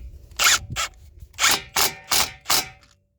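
Ratchet wrench with a number 12 socket tightening a bolt on a 2012-2017 Toyota Camry shock absorber, giving a sharp, close burst of clicks followed by five steady, evenly spaced ratcheting strokes with no talking.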